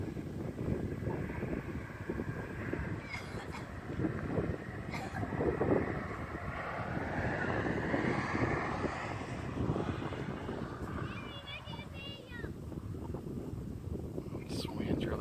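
Steady wind buffets a microphone outdoors during a drone transmitter range test, a constant low rumbling roar lasting throughout.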